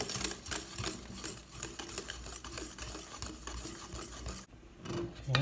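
Hotcake batter with all-purpose flour being stirred in a bowl, a busy scraping, rhythmic whisking that runs continuously, then briefly stops near the end before starting again.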